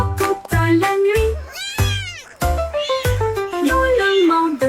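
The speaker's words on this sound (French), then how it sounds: "Miaulement de joie toute la nuit." A cat meows repeatedly in drawn-out, melodic cries, close and loud, one call following another with brief pauses.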